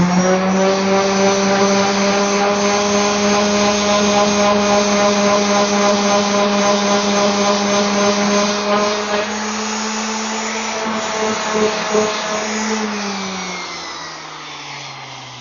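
A loud electric sander sanding wood whines steadily with a strong humming drone, running continuously before winding down at the end.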